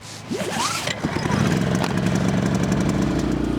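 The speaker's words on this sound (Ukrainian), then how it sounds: "Здавалося б, такий маленький генератор." Small portable generator starting and running, a steady loud low engine drone that settles into a constant hum, with a brief rising whine at the start.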